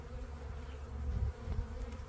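Honey bees from a newly installed package hum in a dense, steady low drone, close and continuous with no voices.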